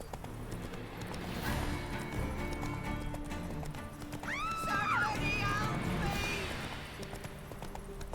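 Horse hooves clip-clop steadily while riding into a village in The Witcher 3, with a horse whinnying midway over ambient game sound.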